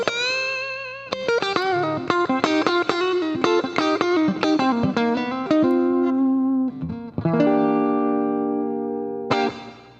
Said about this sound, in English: this is just a clean sound of the amp, and we've added a little bit of reverb via a Digiverb pedal